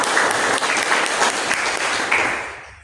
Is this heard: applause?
yes